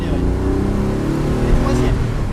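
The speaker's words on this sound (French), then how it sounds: "Maintiens bien ton filet de gaz, tu maintiens bien ton allure, tu n'accélères pas, et là tu vas accélérer." Car engine during a driving lesson, a steady loud in-cabin drone with a slight rise as the driver accelerates, continuous throughout.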